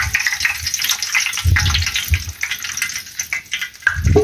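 Hot rendered pork lard being drained, a steady gushing, pouring flow with sizzling and splashing, close and fairly loud throughout.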